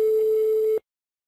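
A single steady telephone tone sounds loudly for under a second while a prank call is being dialed, then cuts off abruptly into silence.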